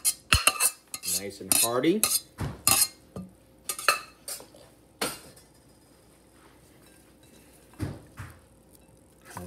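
Pho soup is ladled into a big bowl amid a flurry of close clinks and scrapes of utensils against dishes, thinning out to sparse knocks; a voice speaks briefly.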